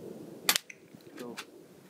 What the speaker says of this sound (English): here's my friend now shooting with GSG 92